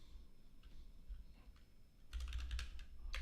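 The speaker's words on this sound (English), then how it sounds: "I keep typing that wrong." Fingers tap rapidly on a computer keyboard in bursts of crisp clicks, quiet at first and then a louder, quicker run of keystrokes near the end; no speech.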